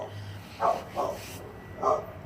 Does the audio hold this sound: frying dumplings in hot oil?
no